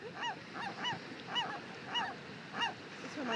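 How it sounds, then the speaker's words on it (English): Seagulls call close by in a series of short, harsh honking cries, about six spaced bursts in a few seconds, over a faint outdoor background. "We're gonna die. Death by seagulls."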